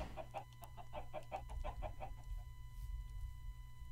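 Chickens in the Minecraft video game cluck in a quick run of soft, evenly spaced notes over a low background hum, then fall quiet.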